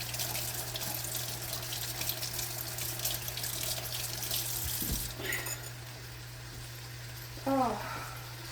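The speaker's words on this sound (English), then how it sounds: "I need to wash my hands." Water runs steadily from a kitchen tap as hands are washed at a sink, a constant close hiss with a low hum beneath, ending with a brief splash and clatter near the close.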